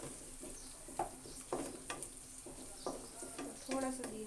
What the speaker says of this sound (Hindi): तो थोड़ा सा जीरा डाल के इसको हम फ्राई कर लेंगे, हल्की सी आंच पे फ्राई करेंगे।